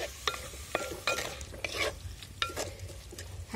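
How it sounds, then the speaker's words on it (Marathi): Chopped onions sauté in a clay pot for a village-style prawn biryani, with a soft background sizzle under repeated scraping strokes of a spoon against the pot. "त्याच्यातच कांदा टाकते, कारण त्याने ते चिकटेल, मातीचं भांडं आहे ना। चांगलं परतून घ्यायचं आहे।"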